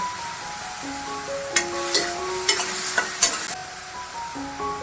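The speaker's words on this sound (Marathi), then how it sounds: "मीठ घातलं दोन मिनटं परतून घ्यायचं" Onion sautéing in a pan with salt for a methi and mixed dal dish, a steady sizzle broken by a run of sharp stirring scrapes and clinks near the middle, close up, with a faint tonal hum underneath.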